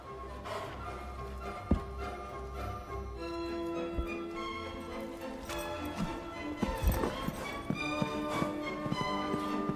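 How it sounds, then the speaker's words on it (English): Horses' hooves thud and clop as they land after show jumps, with irregular sharp impacts over a busy background of music and ambient noise. "In precise sequence, the other horses perform one jump after the other."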